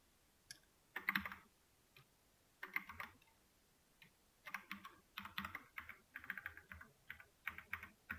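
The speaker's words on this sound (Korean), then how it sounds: "그냥 타이핑을 해야겠군요" Keyboard typing during a Spring full-stack Java coding lesson, with irregular bursts of clicky keystrokes fairly close and moderately quiet, rhythm quickening in the second half.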